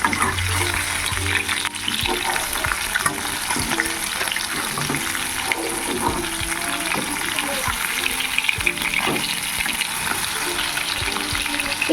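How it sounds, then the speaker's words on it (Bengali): A large fish head and pieces fry in hot oil in a pan, a loud, constant close sizzle and crackle that runs throughout with faint clinks of handling. "আর আমি এদিকে এখন মাছ ভাজছি"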